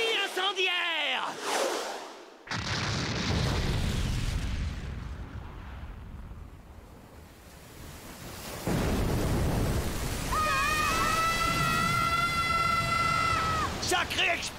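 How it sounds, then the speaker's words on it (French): An incendiary pellet explodes in a One Piece anime fight, a sudden loud boom followed by a long rolling rumble, then a second surge of noise with a high, wavering voice cry and other voices. "Sacrée explosion!"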